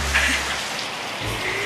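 Heavy rain pours down steadily, a loud, dense hiss of drops striking surfaces close by, with no talking.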